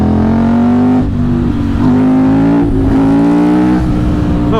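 A KTM 950 SMR motorcycle engine, freshly rebuilt carburetors just synced and jetted, revs hard and close, its pitch climbing in strong pulls broken by brief dips as it shifts up through the gears.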